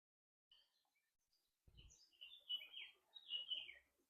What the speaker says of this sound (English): That's the blackcap.